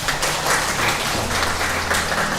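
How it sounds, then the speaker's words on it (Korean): A congregation at a Sunday church service claps warmly to welcome visiting guests, a pastor and his family, with a dense, steady wash of many hands that holds at an even level throughout. "박수로 따뜻하게 환영할까요?"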